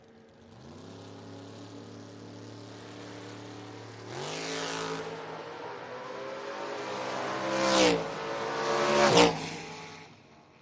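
A pair of footbrake drag race cars, a Gremlin and a Blazer, launch and race down the strip, engines revving and rising in pitch through gear changes, growing louder toward the end.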